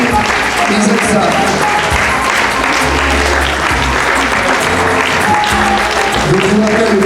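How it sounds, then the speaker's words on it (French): Sustained, loud audience applause for fashion show models fills the space, dense clapping continuing throughout while someone speaks over it through a loudspeaker. "Applaudissez-les, ils aiment ça."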